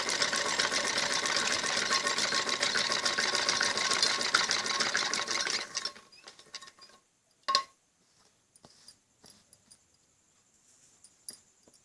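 A sewing machine runs steadily and fast while stitching a kameez neck onto buckram, then stops abruptly, leaving scattered faint clicks and handling taps.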